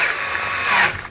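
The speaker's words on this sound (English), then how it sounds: "I had to go up and get my drill" Close, loud cordless power drill whirring steadily while screws are driven to fit a LOCTIAN fingerprint smart door lock, then winding down and stopping near the end.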